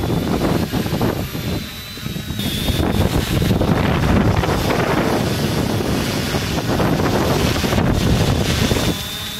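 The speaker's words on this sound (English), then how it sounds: "I would estimate the wind is about 10 or 11, possibly even 12 miles per hour right now." Strong wind buffeting the microphone outdoors near a flying quadcopter, a loud continuous roar that surges and eases across the whole stretch, with a faint high motor whine now and then and no talk.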